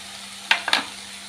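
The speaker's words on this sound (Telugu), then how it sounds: "మీడియం ఫ్లేమ్లోనే ఉంచుకొని మధ్య మధ్యలో ఇలా కలుపుకుంటూ చక్కగా ఫ్రై చేసుకుందాం" Crushed garlic frying in a pan with panagunta leaves on medium flame, three quick stirring scrapes and clatters over a faint steady sizzle, close by and without talk.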